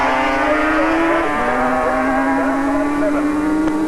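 A Yamaha TZ500 two-stroke racing motorcycle screams past at the 1985 Bathurst Grand Prix, a loud buzzing, high-revving engine note whose pitch shifts as it passes, with a commentator talking over it.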